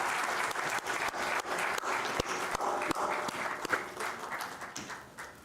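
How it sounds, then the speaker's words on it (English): Sustained applause from a conference audience welcoming a speaker at an arbitration session, dense clapping with a few sharper individual claps standing out, steady and fairly close throughout. "Please give a warm round of applause to Mr."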